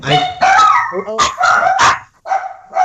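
Dog barking and yipping in several quick bursts close to the microphone, loud and sharp, with brief pauses between.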